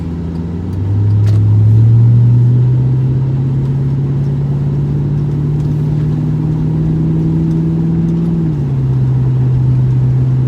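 A 2003 Lincoln Town Car with its muffler and resonator deleted accelerates onto a highway. The loud, raspy engine drone rises in pitch, holds steady, then drops briefly as it shifts before settling into a constant cruise.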